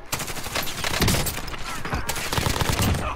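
Rapid bursts of video game gunfire crackle loudly and continuously in several volleys, with heavy overlapping shots and no talking.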